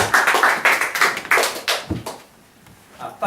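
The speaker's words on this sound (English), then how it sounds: "Give a big round of applause for Mr." Audience applause for poet Thomas Clark at The Eildon Tree's 15th anniversary event: a burst of close, dense hand clapping that thins out and fades after about two seconds, with no talk.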